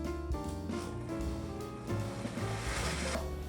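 A blender running steadily as it blends a smoothie made with full fat coconut milk, a loud continuous whirring churn with a shifting motor tone and no pauses.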